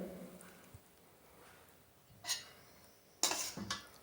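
A spoon clinks and scrapes in a pan as rice is mixed with mint-coriander masala for pudina malli rice. Soft stirring is followed by two sharper metallic knocks, close but fairly quiet, with no talk.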